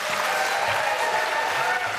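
Audience applause at a Florida gubernatorial debate, a dense continuous patter of clapping that holds at steady loudness throughout.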